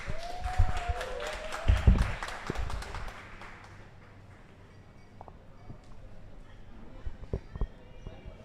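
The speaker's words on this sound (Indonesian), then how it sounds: "Tepuk tangan." Audience applause at a radio show, a burst of clapping mixed with talk that fades after a few seconds, followed by sparse quieter taps under low background voices.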